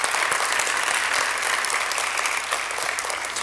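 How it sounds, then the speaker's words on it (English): An audience at a basketball awards ceremony applauds steadily, a dense, even wash of clapping from a crowd throughout. "a big round of applause anyway for Alex Linderer"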